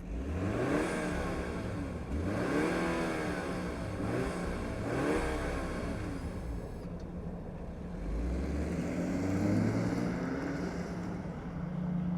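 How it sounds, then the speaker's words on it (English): BMW 530i sedan starting up and pulling away, with several rising engine surges in a row, a brief lull, then a further drawn-out acceleration, all heard from nearby at a moderate level. "let's fire it up and see it move"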